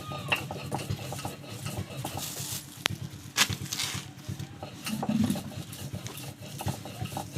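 Semolina and flour being mixed together by hand in a bowl, dry, with no water added yet, make soft irregular scraping and stirring rustles with a few sharp clinks, close and fairly quiet.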